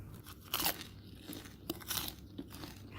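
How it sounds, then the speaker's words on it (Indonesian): Crunchy bites into crispy fried cireng, an Indonesian tapioca snack with a chewy, stretchy inside, giving a few sharp close crackling crunches against faint room noise. "Crispy banget sampai kriuk-kriuk keluarnya itu, tapi dalamnya kenyal."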